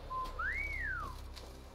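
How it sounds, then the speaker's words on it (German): A human wolf whistle aimed at Geralt in The Witcher 3, a single rising-then-falling whistle lasting about a second over a low background hum. "Da wird einem gleich hinterher gepfiffen."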